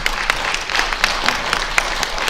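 Scattered applause from an audience at a talk by a St. Louis County defender, steady broadband clapping with sharper individual claps standing out, moderately loud and continuous across the moment, with no voices on top.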